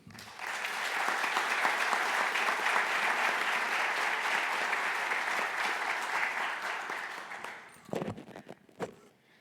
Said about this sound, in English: Please give a round of applause to Caitlin Dykes from Chesapeake, Virginia.